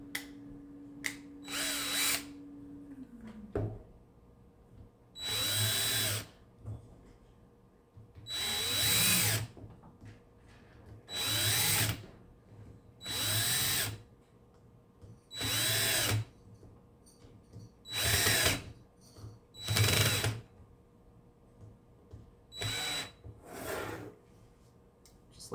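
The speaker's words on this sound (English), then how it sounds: "I'm going to screw them in just a little bit, each one as I go around," A power drill drives screws into a washer, giving about ten short, loud whirring bursts with brief pauses between them as each screw is turned in a little at a time, close by with no talk.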